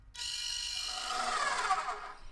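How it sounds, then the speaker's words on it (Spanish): An electric mixer beating the last of the sugar into carrot cake batter gives a steady, even whir that runs briefly and quietly without a break. "Agregamos la última parte del azúcar y terminamos de batir."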